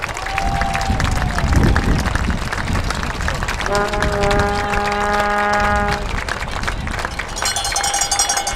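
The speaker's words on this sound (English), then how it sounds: "Big round of applause for our senior football players and managers." Crowd at a high school varsity football senior night applauding senior players and managers, a broad steady clatter of clapping from the stands with a long horn-like tone sounding through it.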